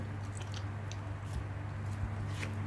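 Someone bites and chews peeled ripe mango close up, with soft, wet squishing and a few muffled bites over a low steady hum.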